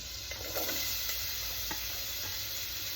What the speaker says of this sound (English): And then in go, the chopped onion.